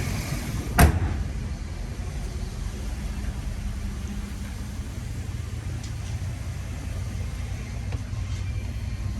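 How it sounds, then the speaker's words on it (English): A single heavy, solid thud near the start as the hood of a 1995 Bentley Brooklands is shut, followed by steady low background rumble. "you close the hood on it and it sounds just like the door of a bank vault"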